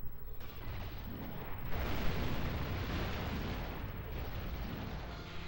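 Missile shots and explosions in the Metal Arms video game, a dense, rumbling run of blasts with bursts of heavier booms and sustained roaring debris noise throughout, no talk.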